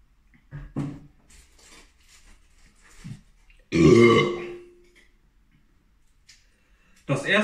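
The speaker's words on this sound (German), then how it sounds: "vielleicht kann ich ein bisschen rülpsen." After a sip of cola, a person lets out a loud, drawn-out burp at close range, with short vocal noises and light clatter around it before and after.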